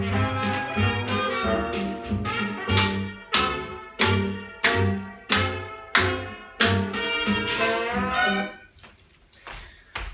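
Hot Charleston swing music plays with strongly accented, punchy beats on a steady bouncing rhythm, loud and without talk, before fading out near the end.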